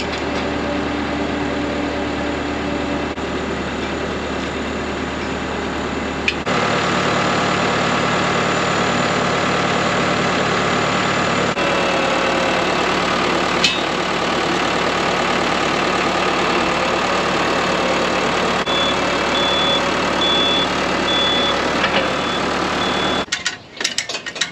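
A farm tractor engine idles steadily nearby, a continuous low mechanical drone with faint rattling and clanking layered over it, running alone without talk until it cuts out abruptly at the very end.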